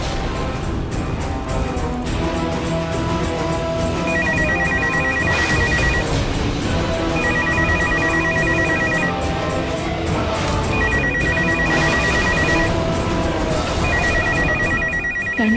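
A landline telephone rings in a drama scene, its bell trilling in four repeated bursts with short gaps, loud and steady over a constant background bed of music.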